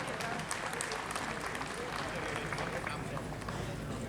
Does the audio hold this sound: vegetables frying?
no